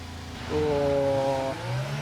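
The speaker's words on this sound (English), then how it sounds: "Oh, that Red Bull engine sounds good, I like it." A Red Bull Formula One car's engine in the racing game F1 22 on cold hard-compound tyres at a green track, a loud high-pitched whine that rises steadily as it revs up and then drops into a lower drone.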